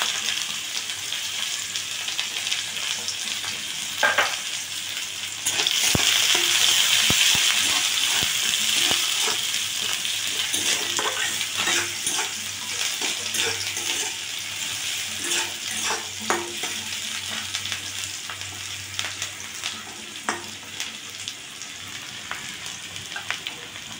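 Onion fries in a pan with a bay leaf, making a steady, close sizzle that grows louder as the onion goes in, with occasional clinks and stirring scrapes.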